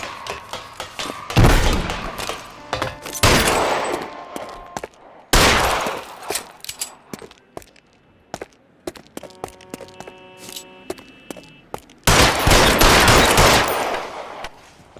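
Gunfire in L.A. Noire, bursts of loud shots and rapid automatic fire in several separate volleys with quieter gaps, thuds and footsteps between them.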